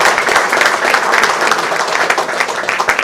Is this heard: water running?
no